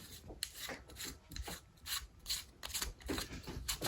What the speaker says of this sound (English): you got a dust cover on the front. Let's unscrew that.